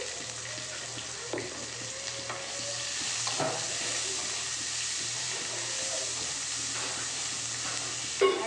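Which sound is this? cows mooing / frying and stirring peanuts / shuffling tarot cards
frying and stirring peanuts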